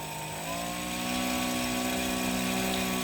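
An electric kayak outboard motor runs steadily at about 3,000 RPM, giving a constant mechanical whine with layered tonal hum that rises slightly and holds, heard close and alone throughout.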